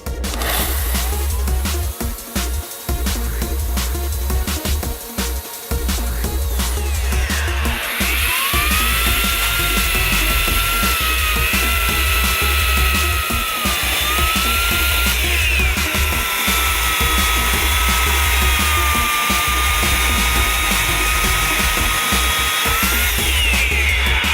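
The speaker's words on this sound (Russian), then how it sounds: "Хорошая, мощная пила." A Daewoo DACS 2700E electric chainsaw runs loudly and steadily, with a whining motor tone that rises as it bites into wood and drops when load eases.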